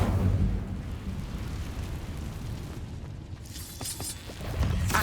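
The Incendio fire spell in Hogwarts Legacy is cast with a burst of flame: a loud whooshing eruption at the start that rumbles on, then a crackling flare near the end.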